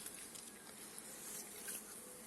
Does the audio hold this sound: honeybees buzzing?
yes